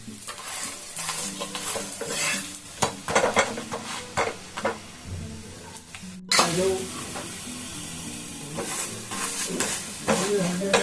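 Layered roti frying in ghee in a pan, a steady close sizzle with repeated clinks and scrapes of a utensil, one brief cut midway, no talking.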